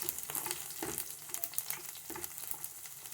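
Cumin seeds sizzle in hot oil in a pressure cooker on low flame, a close, crackling fry with scattered pops and light stirring clicks over a steady hiss.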